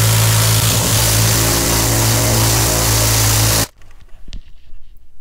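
A vibratory tumbler polisher loaded with Honda Z50 parts, dish soap and AutoSol metal polish hums with a loud, steady drone, then cuts off abruptly, leaving faint clicks and rattles.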